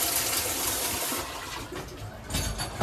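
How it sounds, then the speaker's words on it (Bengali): Toilet flushing in the toilet of a new LHB coach on the Kaviguru Express train: a loud, broad rush of water that eases after about a second, then surges again near the end over steady train noise. "ফ্লাশ কাজ করছে এবং জেট স্প্রে দেওয়া আছে"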